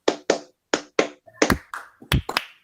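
A group of teachers and counsellors claps hands on cue during a school counselling training exercise, giving a few short, uneven bursts of claps that are not quite together, mixed with brief voiced shouts.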